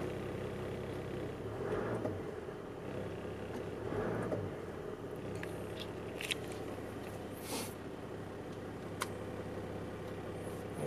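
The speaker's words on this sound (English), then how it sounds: "this one starts right up as it should. One crank and it's good." A 1992 Toyota Coaster camping bus with a 1HD-T turbo diesel engine runs at a steady idle, a constant low rumble that stays loud throughout, with a few faint clicks and rattles on top.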